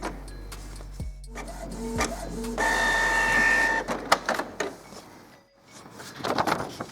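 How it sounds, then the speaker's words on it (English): A Canon Pixma MP250 inkjet printer runs a nozzle check test page, with clicks and clunks of the mechanism, a whirring motor stretch, then sharp ticks and the print head shuttling back and forth close by. "So what we're going to do is just get this started by pressing either the black or the colour button on the bottom of the printer."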